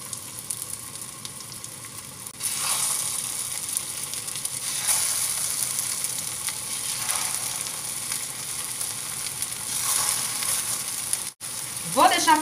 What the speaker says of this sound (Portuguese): Em uma frigideira eu vou adicionar um pouco de azeite. Vou dar uma boa espalhada. E vou fritar os meus bolinhos.